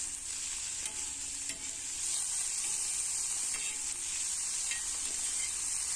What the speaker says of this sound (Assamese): আৰু সময় ভাজিম আৰু ভালদৰে সিজিব দিম